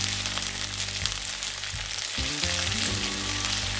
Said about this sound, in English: Now put this floured up meat in there